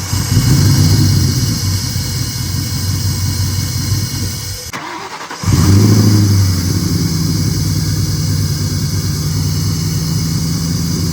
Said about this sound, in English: So I'm about to start up the car, and if the car does start, then everything should be good.